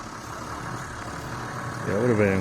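A Toyota Land Cruiser engine towing a chainsawed log: a steady rumbling engine drone outdoors that swells slightly near the end, with a voice briefly talking over it.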